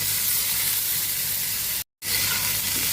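Quail eggs and diced local potatoes with salt and turmeric fry in a pan, a steady, close hiss of sizzling oil that fills the clip, broken by a brief dropout.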